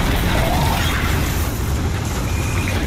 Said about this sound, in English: I'm just shooting my grenade launcher